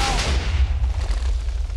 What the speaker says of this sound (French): Tout exploser la map.